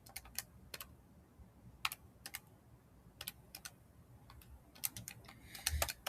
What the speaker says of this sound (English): grab your calculator and type this in